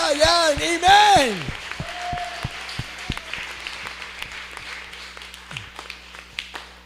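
Applause from a church congregation during a revival preaching service, starting with a loud burst under a preacher's melodic shouting, then thinning out into scattered, separate claps.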